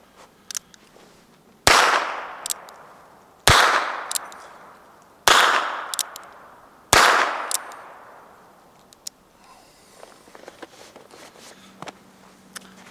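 Four loud, evenly spaced shots from a Remington New Model No 4 revolver, each crack followed by a decaying ring, then quieter handling clicks.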